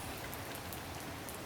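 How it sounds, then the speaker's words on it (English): Warm rain pours down steadily during a rainstorm, a dense, even hiss of drops that fills the short stretch with no voices. "we're playing in a rainstorm"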